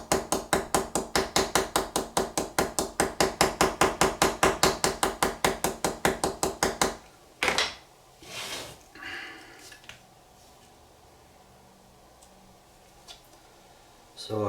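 A hammer taps rapidly and steadily on the pin ends of new straight razor scales, burring the edges over on a Joseph Elliot barber's razor at the bench; about seven seconds of close, even strikes, then quieter handling sounds.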